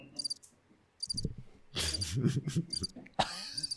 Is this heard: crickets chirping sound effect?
yes